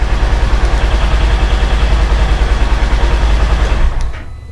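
A Polaris Ranger engine runs with a loud, close, pulsing low rumble, then cuts off near the end after a remote start shutdown, dropping to near quiet.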